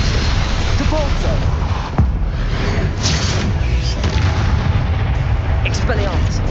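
Booming Confringo and Depulso spell blasts in the Hogwarts Legacy video game, a dense run of loud explosive bursts and thuds over constant rumbling battle noise, with a voice calling out amid the fighting.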